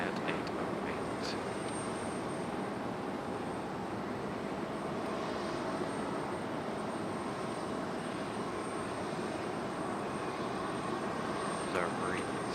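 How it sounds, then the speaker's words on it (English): An American Airlines Boeing 777 departs Raleigh-Durham International Airport with a steady, broad jet roar heard at a distance. It holds evenly throughout, with faint chatter beneath it. "American 777 departing at 8:08."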